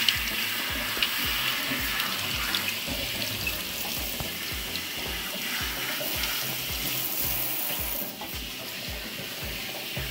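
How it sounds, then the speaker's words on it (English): A tap runs steadily, spraying water over an HRV filter to rinse it in a sink, a continuous close hiss and splatter with no talk. "Simply you turn on the tap and run it under the water."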